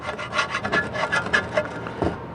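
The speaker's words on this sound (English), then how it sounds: "this gasket's coming off pretty easy" An old, brittle gasket is scraped off a GM 11.5-inch rear differential, a close series of short rasping strokes in an uneven rhythm, with no talk.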